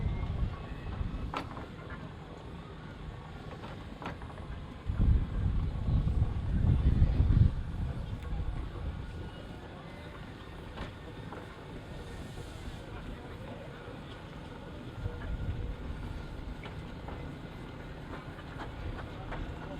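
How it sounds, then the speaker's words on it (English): Burrell steam traction engine running at the Rempstone Steam & Country Show, giving a steady low mechanical rumble and chuff that swells louder for a couple of seconds midway amid outdoor show ambience. "That's Burrell traction engine, Old Bill."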